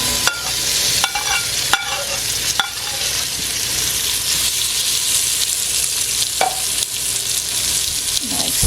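Fried onion, garlic and pimento tipped into a pan of frying okra, giving a steady loud sizzle with a few sharp scrapes and clatters of stirring, and no voices.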